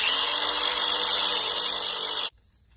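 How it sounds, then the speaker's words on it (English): A power sander grinds at a part of a rolling gas tank's fuel fitting so a nut will thread on, a loud, steady, close whine that runs for about two seconds and then cuts off abruptly, with no talk. "you got to sand this so the nut can go on"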